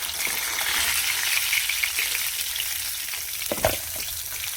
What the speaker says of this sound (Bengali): মাছটা ভালো করে ভাজা হয়ে গেছে, 2 পিস